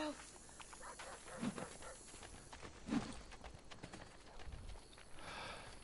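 Horse hooves clop at a walking pace in the Assassin's Creed Brotherhood game, faint and muffled under a low ambient bed with a couple of soft thuds.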